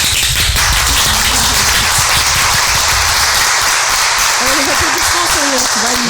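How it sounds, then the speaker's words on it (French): Studio audience and hosts applauding on a morning radio show, loud close clapping with distinct sharp hand strikes and rhythmic bursts, while a voice chatters over it toward the end. "on applaudit"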